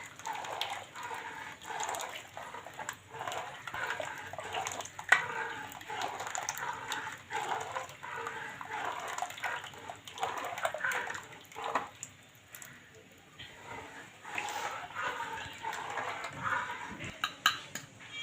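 Rice flour batter is stirred continuously into boiling milk in a pot, a quiet, close run of spoon scrapes and soft clinks against the metal with wet bubbling beneath, irregular and unhurried.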